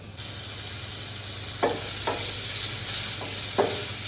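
Grated coconut roasting in a pan over a low flame, with a steady dry sizzle throughout and a few distinct scraping stirs of a spoon against the pan, close and moderately loud.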